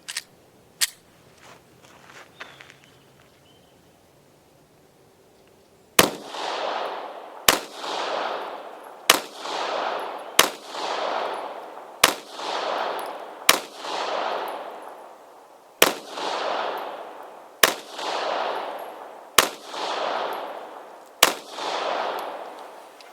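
Test firing of a Taurus GX4 pistol loaded with ZSR primers: after quiet handling clicks, about a dozen sharp, loud single gunshots ring out at a steady pace of roughly one every one to two seconds, each with a short echoing tail.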